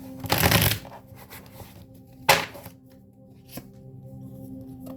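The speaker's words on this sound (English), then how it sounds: "Let me just make sure these are shuffled up." Tarot cards shuffled by hand in quick riffling bursts: a long broadband rustle near the start, a sharp second burst midway, then a faint flick, with a low steady hum beneath.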